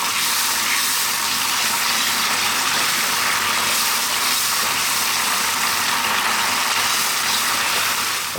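Sweet sriracha sauce poured over fried salmon, a steady wet hiss and sizzle that holds loud and even throughout with no voices.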